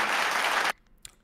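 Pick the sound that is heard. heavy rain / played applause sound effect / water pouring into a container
played applause sound effect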